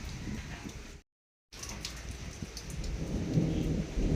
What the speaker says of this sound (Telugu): గాలికి వర్షం ఇటు వచ్చేస్తుంది